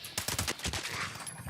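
Rapid bursts of automatic turret fire in Fallout 76, a loud rattling volley of closely spaced shots running through the whole moment with no voices over it.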